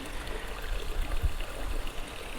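Water gushing out through the open paddles of a canal lock on the Caen Hill flight at Devizes, a steady broadband rush with low churning rumble, close and continuous without speech.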